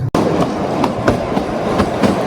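Kalka-Shimla narrow-gauge toy train running through the hills, a steady rumble of wheels with faint periodic clacks over rail joints, close and continuous.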